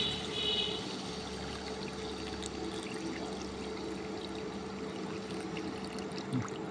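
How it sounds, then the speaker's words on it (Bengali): Broth is poured into a curry of spiced, fried-down masala while cooking, a steady liquid pour and gentle stream running continuously at moderate level over low kitchen background. "কষানো শেষ, এখন আমি ঝোল দিয়ে দিব।"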